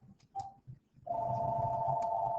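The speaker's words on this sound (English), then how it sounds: "my phone is ringing at my house" A home telephone rings in the background, a steady continuous electronic tone following a few short blips, moderately loud with no talk over it.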